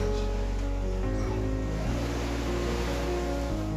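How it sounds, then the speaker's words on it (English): Ocean waves at a sailing club in Entebbe make a steady, soft wash of broadband surf noise with a low rumble underneath, continuous and moderately faint. "The waves are a good distraction. You can focus on the waves."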